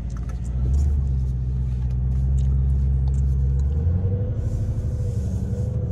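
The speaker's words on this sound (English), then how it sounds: "we are immediately going to put this in Corsa mode. You hear those valves open." A yellow Lamborghini Urus in Corsa mode with exhaust valves open, producing a deep, loud, steady engine rumble up close that rises in pitch near the end.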